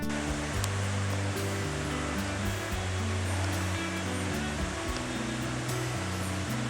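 Water pouring over the weir at Scalby Mills, Scarborough, a continuous dense rushing roar with a low rumbling undertone, steady and unbroken throughout with no voices.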